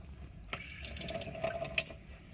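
Water from a tap runs into a sink for hand washing, a steady close splashing stream that starts abruptly and continues with small drips and bursts, no voices.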